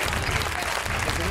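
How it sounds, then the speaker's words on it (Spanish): Studio audience applauding a young contestant on a television reality show, a dense steady clatter of clapping filling the whole short moment at even loudness. "Un aplauso para él,"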